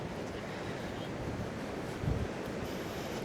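Ocean waves and wind on a beach at Isabela Island in the Galápagos, a steady broadband rushing roar with wind buffeting the microphone and a slight surge near the end.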